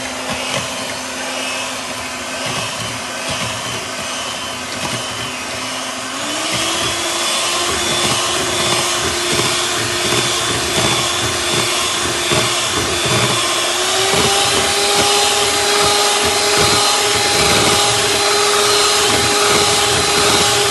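An electric hand mixer whisks cake batter with grated lemon zest and vanilla sugar in a village kitchen in Erzurum. It gives a loud, steady motor whine close by that steps up in speed twice, with no voices.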